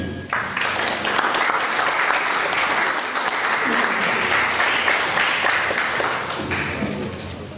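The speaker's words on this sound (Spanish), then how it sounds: "a quien pido recibir también con un fuerte aplauso" Audience applause at a law lecture, welcoming a conference speaker: dense, steady clapping from a sizeable crowd that runs nearly the whole clip at an even level before tapering slightly at the end.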